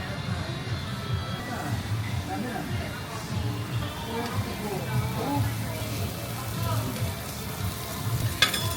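Food fries in a lot of oil, giving a steady low sizzle and bubbling that runs throughout beneath people talking nearby.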